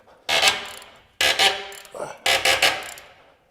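Ratchet wrench with a universal socket tightening a large bolt, heard as three loud bursts of rapid mechanical clicking, each about a second long, with short pauses between.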